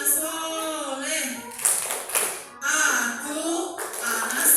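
Children perform the 'tepuk anak soleh' clapping chant, bursts of group hand claps falling in rhythmic clusters between their chanted voices, close and lively.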